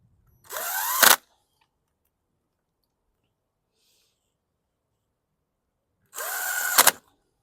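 Power screwdriver or drill backing screws out of the plastic carburetor on a 2019 Bolens side discharge/mulch lawn mower: two short whirring bursts separated by a long silence, close and loud, with no voices.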